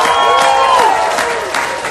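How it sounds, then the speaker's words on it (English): Audience applause at an award ceremony, a loud, dense wash of clapping mixed with crowd cheering that carries steadily throughout, with a voice over it. "Please join us for a big round of applause"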